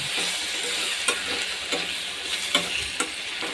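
Turmeric, chili and coriander powders sautéing in a pan for a palak potato masala gravy, a steady close sizzle broken by several sharp scrapes of a stirring spoon, with no talking.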